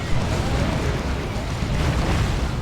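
Lascannon shots hitting a Leman Russ tank in the Warhammer 40,000 strategy game Dawn of War 2, heard as a continuous rumbling barrage of booming impacts and bursts, moderately loud with no voices.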